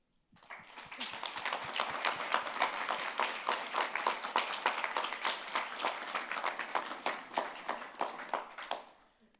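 Audience applause at a TEDxVCU event, a dense, sustained burst of many hands clapping that rises quickly, holds steady for several seconds, then tapers off.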